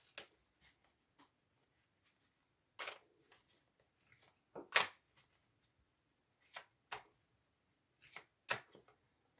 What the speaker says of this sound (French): Nous allons couper et prendre 3 cartes.